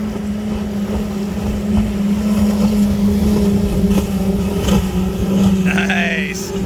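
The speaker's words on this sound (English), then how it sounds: "Oh, we got a boat coming." A motorboat with five outboard engines drones steadily nearby with a constant engine hum and wash of water, a few brief knocks and a faint high tone near the end.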